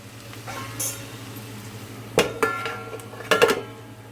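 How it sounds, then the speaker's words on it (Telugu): A metal lid goes back onto a pan of frying egg and prawn curry: a few loud, close clanks and clinks of metal against metal over a faint sizzle and a low hum, without speech. "మళ్ళీ మూత పెట్టుకుందాం."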